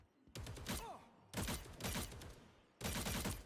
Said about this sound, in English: I can also control when I shoot.